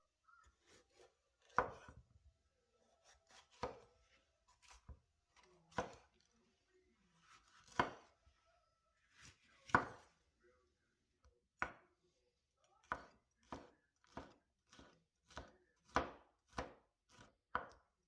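Knife chopping onions and peppers on a cutting board at a home kitchen, steady, unhurried strokes in uneven groups that speed into a quicker run of crisp, close chops near the end, with no talking.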